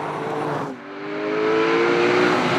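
Porsche 911 GT3 driving on the road, a 500-horsepower sports car engine that briefly drops off then pulls up into a rising, sustained drone, loud and close, with no talk.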